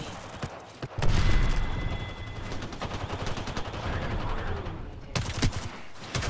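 Dense, rapid gunfire rattles almost nonstop through a video game shootout, with bursts of automatic fire and sharp single shots overlapping close by, and a brief lull near the end before loud shots resume.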